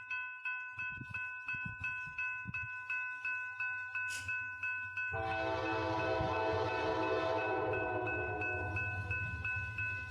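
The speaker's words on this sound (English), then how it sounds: "FRA Geo Train Horn Show" Norfolk Southern locomotive horn blaring a loud, sustained multi-tone chord beside the tracks, beginning after the rhythmic clickety-clack of passing railcars and holding steady to the end.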